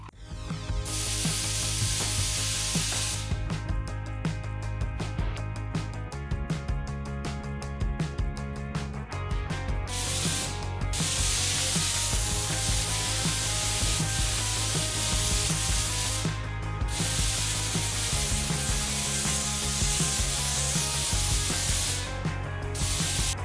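Filler primer sprayed from a spray gun onto drag-bike motorcycle fairings for an H2R turbo build, long, loud hissing bursts broken by a few brief pauses, over a steady tonal background.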